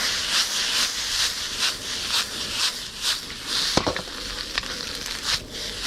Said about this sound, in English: you always put the soy sauce around the outside of the pan, not directly on the rice, because you want it to really quickly sizzle off and reduce